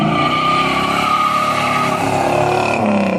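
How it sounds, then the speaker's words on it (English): A 1966 Plymouth Satellite with a 426 Hemi V8 accelerates hard, its loud engine rising steadily with some tire squeal near the end. "Number 7, 1966, Plymouth Satellite 426 Hemi."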